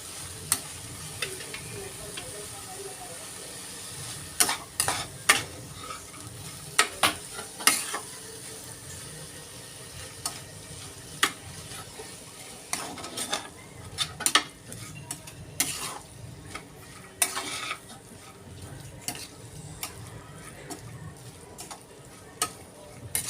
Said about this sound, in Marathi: मोड आलेले मूग आहेत ते छान मिक्स करून घेऊया.